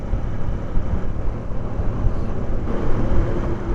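Lorries pass on a patchy, potholed stretch of the Sattenapalli–Guntur road, heard from a motorcycle as a loud, steady engine and road rumble with broad wind-like roar and no distinct peaks.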